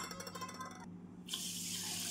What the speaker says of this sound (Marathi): 1 वाटी, याच वाटीने 4 वाटी पाणी।